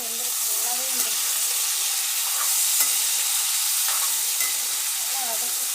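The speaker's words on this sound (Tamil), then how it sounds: "அப்படியே வதங்கட்டும். ஒரு நல்லாவே வதங்கணும் கத்திரிக்காய்." Eggplant sautés in a pan as an even, steady sizzle, with a few faint scrapes and taps from stirring now and then.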